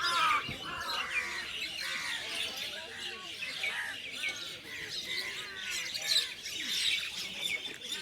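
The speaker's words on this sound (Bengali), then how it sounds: "পাখিদের এই মিলন মেলা মনকে শান্ত করে আনন্দ দেয়" Many birds chirping and squawking together at dawn in a busy, continuous chorus, fairly close, with no talking.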